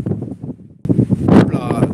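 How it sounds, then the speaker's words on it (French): Strong outdoor wind buffets the microphone in rough low gusts, growing louder and harsher in the second half, while a person talks over it close by. "beaucoup de vent."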